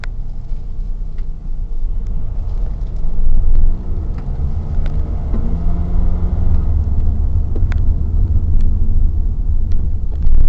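Cars drive past on a road, a loud steady low rumble of traffic with swelling passes and faint clicks, heard close and continuous.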